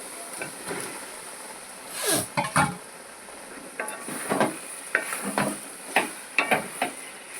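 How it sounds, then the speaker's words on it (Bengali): Beef pieces sizzle in fried masala for a Bengali beef kosha as a spoon scrapes and stirs the pan. Irregular stirring bursts rise over a steady frying hiss, close and clear, with no talk. "এবার আমি এতে গরু গোশটা দিয়ে দেবো।"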